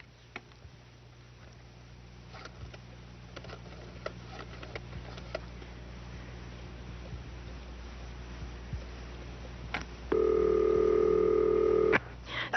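A telephone dialed to reach the sheriff in a quiet room: faint scattered clicks and ticks, then a steady two-second tone near the end before a final click.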